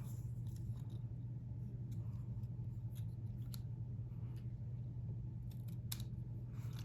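Scissors snip a pennant-shaped end into a paper card sentiment. A few faint, short cuts sit over a steady low room hum.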